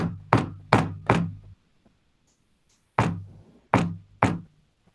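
Heavy knocking on a door in a game room, a quick series of three loud thuds, a pause, then three more evenly spaced knocks, close and with no talking.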